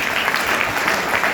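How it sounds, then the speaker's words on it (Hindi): An audience claps hard and continuously, a dense, even patter of many hands that stays loud and close throughout the short burst, with no voices standing out. "एक बार सबके लिए जोरदार ताली।"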